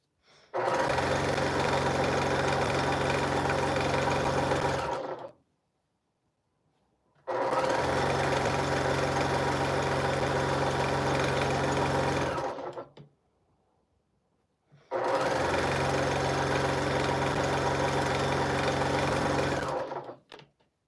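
Sewing machine stitching sashing strips into a scrappy Valentine's Day quilt, three loud, close bursts of rapid steady stitching, each about five seconds long, separated by short silent pauses.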